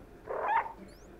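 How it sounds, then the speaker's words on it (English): A cat meows once in the video game Stray, a short, fairly quiet mew rising and falling in pitch within a soft, calm background. "A meow."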